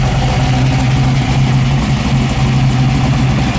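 A 1971 Camaro SS with aftermarket exhaust idles loudly and close by, its deep, steady rumble holding an even, throaty pulse without revving.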